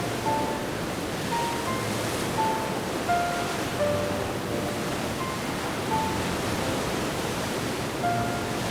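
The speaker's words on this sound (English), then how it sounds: "Myriad waterfalls rejuvenate every inch of the forest" Steady broadband rush of many waterfalls flowing through a damp forest after the dry season, a constant even wash of water with no voices.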